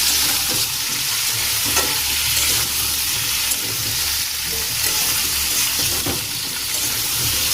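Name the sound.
frying and stirring potatoes with salt and turmeric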